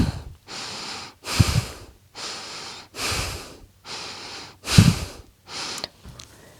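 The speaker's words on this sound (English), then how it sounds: "breathing." Heavy rhythmic breathing during a core-strength vinyasa yoga exercise: about nine deep, even breaths, each a loud airy rush, with a few rougher, snort-like exhales, close up and with no talk.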